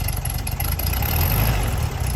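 Engine of a 1968 VW Beetle with a heavy fuel leak, found sitting in a field, idling with a steady low rumble close by and no talking.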